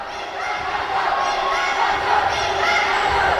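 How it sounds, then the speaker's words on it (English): A basketball crowd at a women's league final, supporters of one team screaming and chanting for defense, a loud, sustained roar of many voices filling a gym. "You can hear the IFS crowd screaming to defense"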